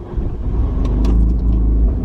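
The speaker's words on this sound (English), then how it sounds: "straight away you will probably hear the noise of the exhaust" A Fiat car idles with a loud exhaust, a deep, continuous rumble close to the microphone with a slight rise in engine note partway through, no voices over it.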